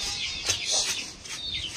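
Chickens cluck and chatter nearby in irregular bursts, with higher chirpy calls mixed in, moderately loud.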